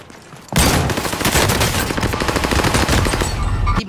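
An MG42 machine gun in Call of Duty Warzone opens up after a half-second lull, firing a long, loud, rapid burst of evenly spaced shots for about three seconds before cutting off, with no speech.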